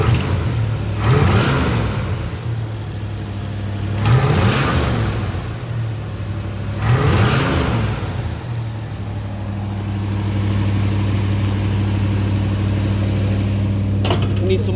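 A car engine runs steadily at a low hum near a truck repair spot, swelling in three periodic surges, then settling into an even idle; a voice talks over it.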